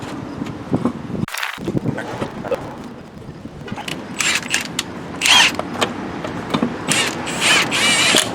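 Lug nuts being wound onto a wheel by hand during a brake service on a 2011 Hyundai Elantra Touring, giving scattered metallic clicks, ratcheting and scraping taps over a steady background, with busier rattling bursts toward the end.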